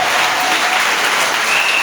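An audience at a church concert in a festival hall applauds and cheers for Jesus, a dense, loud, continuous wash of clapping from a crowd close by.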